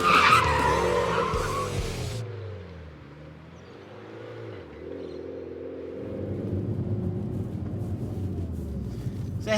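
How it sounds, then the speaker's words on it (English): Modified Mitsubishi Evo X on tarmac pulling a handbrake turn, tyres squealing loudly in a sharp skid at the start, then fading into a lower engine rumble that builds again as power comes back on. "Get ready for foot brake, dump the clutch, handbrake all the way around."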